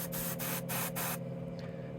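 An airbrush sprays primer for a zenithal highlight in four short hissing bursts with brief gaps, followed by a softer fading hiss, close and fairly quiet.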